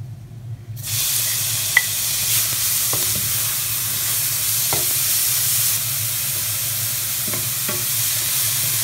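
Onions tossed into a hot pan with turmeric sizzle loudly and steadily after a quiet start, with occasional clicks of a spoon stirring through the hiss.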